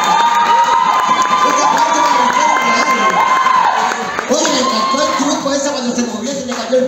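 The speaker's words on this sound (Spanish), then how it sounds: "fuertes los aplausos para Victoria del Real." A crowd cheering and shouting with high excited voices over a dense wash of applause-like noise, an announcer's voice carrying above it.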